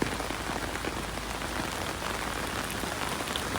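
Dense, steady heavy rain pours down in Dubai, a loud continuous hiss of drops drumming on surfaces with no breaks.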